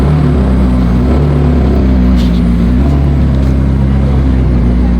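A McLaren 620R engine runs with a loud, steady, low droning rumble, heard close up from inside the car with no sharp revving.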